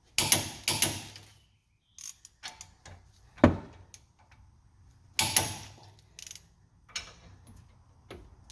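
A torque wrench tightening a brake part during a brake job, heard as close mechanical clicks and ratcheting in short separated bursts, with quiet gaps between them.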